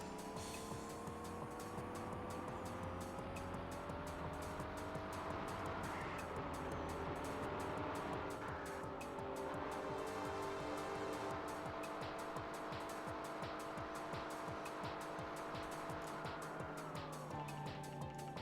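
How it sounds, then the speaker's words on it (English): KITT's engine roars through a turbo boost in the Knight Rider PS2 game, a sustained droning rev with rising and falling pitch, loud and steady, sweeping down as it ends. "Always time for a cinematic turbo boost."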